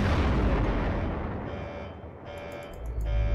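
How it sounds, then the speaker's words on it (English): A generator blows up in the horror game Fazbear Frights, giving a loud, sustained rumbling boom with crackling debris. It fades briefly before a second low burst with high, ringing alarm-like tones. "Generator exploding in 6."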